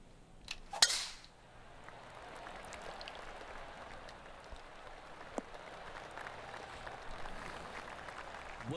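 A golf club strikes the ball in PGA 2K23, a single crisp, sharp crack near the start followed by a quiet ambient bed with faint crowd-like murmur.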